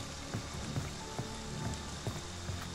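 Steady rain falls in the Friday the 13th video game as a soft, continuous hiss. A few quiet patters and taps come through near the listener.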